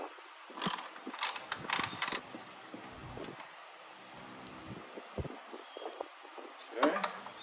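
A screw is worked out of a Jeep Gladiator hood strut, giving a series of quick ratcheting clicks and small mechanical rattles, close and fairly faint, with a brief pause before a final burst.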